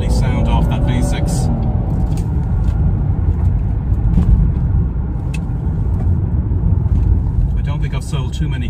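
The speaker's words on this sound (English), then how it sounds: "Lovely sound off that V6." A 2001 Jaguar X-Type with a 3.0 V6 engine runs on the road, a steady low rumbling drone from inside the car under occasional voices.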